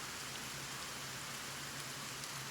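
Rain in the video game Kenshi pours down continuously, a broad hiss of droplets at steady volume, close and unbroken, with no voices.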